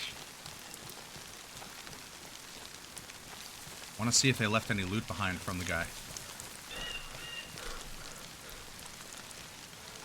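Steady rain hisses in the DayZ game world, a constant wash of drops on surfaces running throughout, with someone talking briefly over it in the middle.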